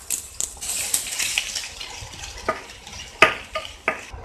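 Onion and green chili sautéing in a pan with garlic, with soft stirring scrapes, light frying noise and a few sharp utensil clinks against the pan, close and fairly quiet.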